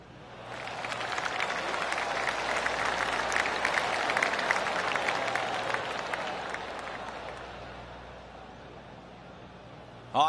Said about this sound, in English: Oh, I can hear the golf claps around the course.